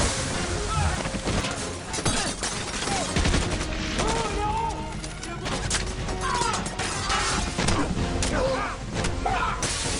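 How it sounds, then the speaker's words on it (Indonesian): Gunfire exchange in a James Bond action scene at an embassy, with dense bursts of shots, crashes and shattering impacts filling the whole stretch alongside music and shouted voices. "Aksi saling tembak pun menghiasi pertempuran James Bond."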